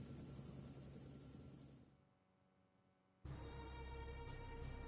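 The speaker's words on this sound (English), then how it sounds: "Look at a helicopter, eh?" A helicopter in the video game Front Mission 1st whirs steadily, fades to a quieter hum, then returns abruptly at full loudness with a dense buzzing rotor drone.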